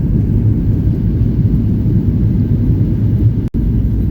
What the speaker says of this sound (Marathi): आणि एकदम अचानकच आता टेकऑफ घेतलेले बघा